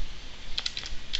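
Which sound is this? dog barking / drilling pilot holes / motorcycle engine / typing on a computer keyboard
typing on a computer keyboard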